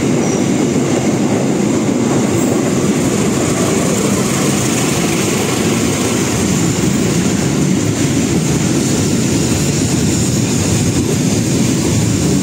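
A train rumbles past close by at a station in Batu Ceper or Duri, Indonesia, steady and loud throughout, with a dense rolling roar of wheels on track and a faint metallic hiss above.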